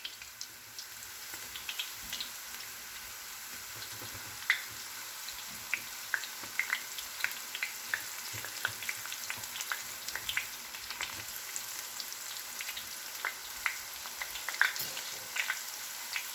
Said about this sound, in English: At this stage you can add your slices.